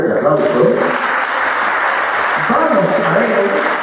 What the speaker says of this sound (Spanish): le damos otro fuerte aplauso